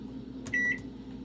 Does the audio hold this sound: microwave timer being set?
yes